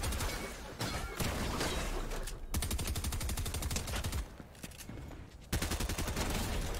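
Rapid SMG and pistol gunfire in a Fortnite Team Rumble match rattles almost nonstop through the whole stretch, dense bursts of shots with only brief gaps, loud and close.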